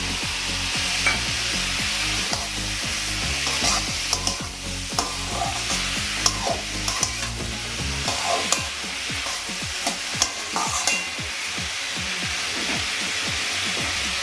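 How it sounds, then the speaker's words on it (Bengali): Lentil dumplings (dal bori) fry in oil and are stirred through a Bengali ash gourd ghonto, with a steady sizzle under rhythmic scraping strokes from a utensil against the pan. "নেড়ে চেড়ে আমি ডালি বড়ি দিয়ে দিই"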